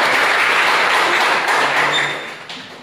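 Sustained applause from a crowd honoring Rujang Lebong, dense and loud throughout, tapering off toward the end with no voices over it.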